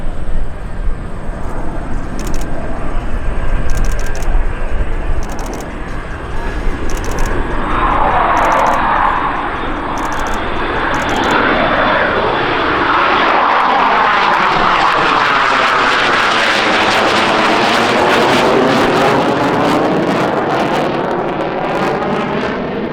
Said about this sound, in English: clean, dirty pass by your Royal Canadian Air Force CF-18 Hornet.